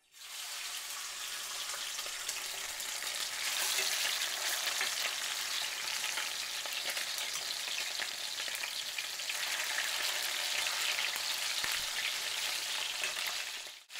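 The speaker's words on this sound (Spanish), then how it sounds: "Aquí tengo la cacerola caliente con el aceite. Yo le agregué una copa de aceite. Si necesita más, le vamos a agregar más. Y es tiempo de dorar las huilotas." Quail browning in hot oil in a pot give off a dense, even sizzle that holds steady at moderate level for the whole stretch, with no voices over it.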